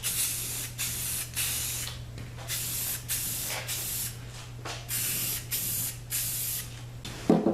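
Aerosol spray paint hissing in repeated short bursts as another coat goes onto a part from a 50-year-old mini bike, close and steady, with brief pauses between passes and a low hum underneath.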